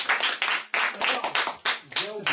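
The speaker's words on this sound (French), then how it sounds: "on peut applaudir à cette fois-ci." A small audience claps in a few quick, close bursts of hand claps, with a voice speaking over the end.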